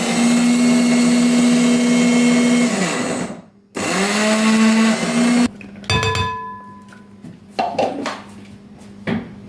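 An electric grinder chews meat for kofta with a loud, steady motor whine, a brief stop, then more grinding before it shuts off and metal parts clatter and knock nearby.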